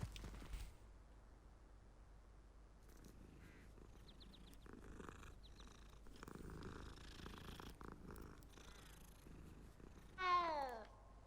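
A cat in the Hogwarts Legacy video game purrs softly and continuously at close range, a low rumbling hum, with faint game ambience and a few brief chirping bird-like calls near the end.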